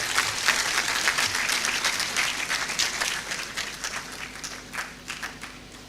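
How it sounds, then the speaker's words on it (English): Audience applause after a guest speech at a university congregation ceremony in a conference centre, a broad wash of many hands clapping that gradually thins and breaks into scattered claps toward the end. "A bigger round of applause for guest speaker."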